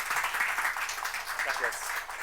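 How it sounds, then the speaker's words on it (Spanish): Audience applause fills a Spanish-language BSides 2022 security conference session, a dense, steady patter of many hands clapping throughout, with a voice speaking over it. "Aplauso para Mauricio."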